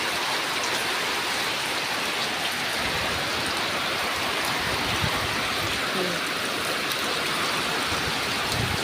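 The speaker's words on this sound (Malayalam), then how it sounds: "ഭയങ്കര മഴയാണ്." Heavy rain pours down steadily amid strong wind bending the trees, a dense, loud, unbroken rush of water close by with no pauses.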